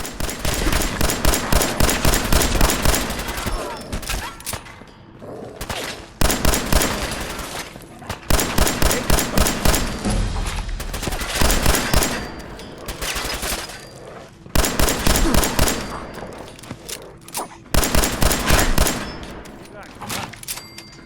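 Fallout 4 gunfire comes in rapid, loud bursts of automatic shots separated by short pauses, with occasional game dialogue in between.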